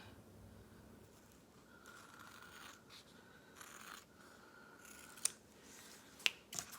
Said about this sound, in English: I'm just cutting with scissors, just across.